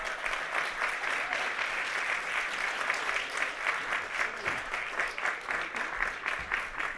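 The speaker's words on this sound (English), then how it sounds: "They will cheer even as you walk onto the stage." Steady applause from a conference audience as panelists walk onto the stage, dense continuous clapping filling the room at even loudness throughout.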